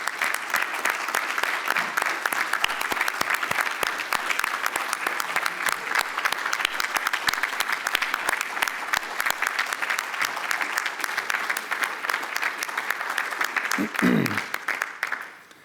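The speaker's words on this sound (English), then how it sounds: "I think we should give her an extraordinary round of applause" Sustained applause from an audience at a gala dinner at the Ritz-Carlton honors a special guest. It is full, dense clapping that carries evenly for about fourteen seconds before fading out, with a brief voice near the end.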